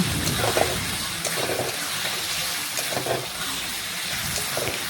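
Chicken pieces go into hot spiced oil for chicken kosha, a steady frying sizzle and hiss with soft stirring clatters, close and continuous with no talking.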